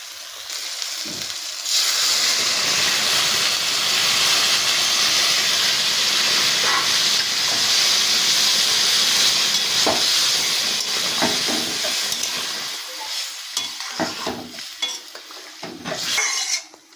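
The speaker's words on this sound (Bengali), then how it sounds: "এবার আমি পরিমাণ মতন জল সোয়াবিনের মধ্যে দিয়ে দেবো" A loud burst of hissing as water is poured into a hot pan of cooked soybean chunks, sizzling strongly for several seconds, then easing into scattered stirring clatter near the end.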